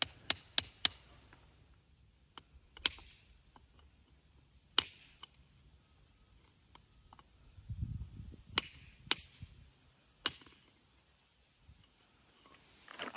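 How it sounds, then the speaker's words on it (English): Sharp metallic clinks of a hammer striking rock while mining amethyst, about a dozen irregular blows spaced across the clip, fairly close, with quiet shuffling in between. "I was smashing that hammer so much harder"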